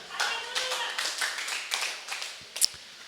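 A church congregation claps together in a short, lively burst of applause, the hand claps dense and close, with a sharp clap near the end before it fades.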